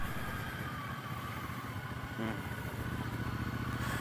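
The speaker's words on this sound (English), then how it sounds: "I want to ride the Triumph. It's been like literally a couple weeks since I've ridden this bike" A 2017 Triumph Bobber motorcycle engine under way while riding, a steady dense rumble mixed with wind roar that holds constant and close for the whole stretch, with no voice over it.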